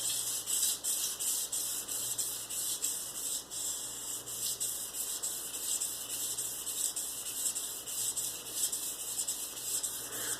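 An axe blade sharpened by hand on a fresh section of sandpaper gives a steady, close, rhythmic rasping hiss of repeated strokes, loud and continuous with no talk.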